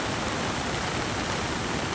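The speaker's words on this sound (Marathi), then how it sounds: "पाऊस तर पूर्ण ते चालू आहे" Heavy rain pouring during a flood in Navapur, Nandurbar district, Maharashtra, heard as a dense, uniform roaring hiss with no break or talk.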